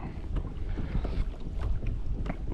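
Gusty wind buffets the microphone on a boat on Kennebec Lakes during bass fishing, a steady low rumble with small water slaps and knocks against the hull, no voices.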